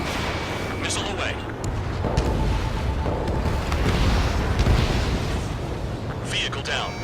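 Missile blasts and cannon booms in an Ace Combat 7 air combat mission rumble as a dense, continuous roar of low explosions, with jet and radio chatter sounds layered over the top.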